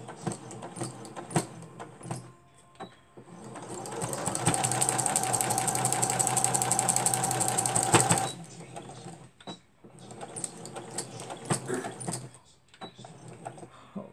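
Sewing machine stitching a homemade wallet, running in a steady, buzzing whir for several seconds between short bursts of clicking, handling and movement.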